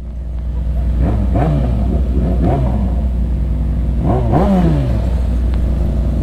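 A Yamaha XJ6 motorcycle revs hard several times while drifting, each burst of engine noise climbing and falling over a constant idle rumble, loud and close.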